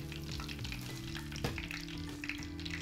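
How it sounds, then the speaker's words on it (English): Risotto balls for arancini deep-frying in hot oil, a dense continuous sizzle and crackle with a brief louder bubbling burst midway, quiet and close. "That's it with frying of our risotto balls to make a dish called arancini."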